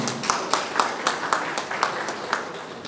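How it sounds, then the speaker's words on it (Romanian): Applause from a crowd at a golden anniversary ceremony honouring couples married fifty years, a steady mass of clapping with a few sharper accents recurring about twice a second throughout. "Cu aplauze."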